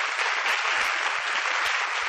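Dense, steady audience applause at the Kodak Awards Show, a large crowd clapping continuously and loudly throughout with no talk over it.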